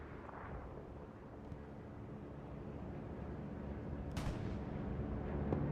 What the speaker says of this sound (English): Bombing run is coming down, and that will be a Watermill bombing run